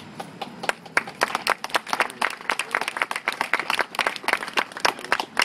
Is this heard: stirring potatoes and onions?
no